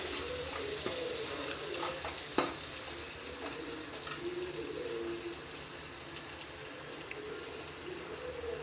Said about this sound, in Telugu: టమాటోస్ వేసుకొని కలుపుకోవాలి.